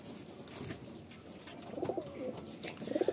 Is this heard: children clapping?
no